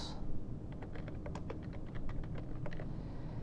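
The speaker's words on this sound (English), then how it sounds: "You can type in your name." Fingers type steadily on a computer keyboard, a close, quick run of light key clicks with no voices.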